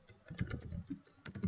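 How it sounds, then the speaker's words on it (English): A site name keyed in on a computer keyboard: a quiet, close patter of rapid key taps in two short runs with a slight pause between, no voices. "Here you are going to type the name of your site."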